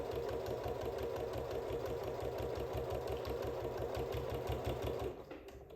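Sewing machine stitching a quilt binding, running in a steady rapid rhythmic chatter at close range for about five seconds before slowing and stopping.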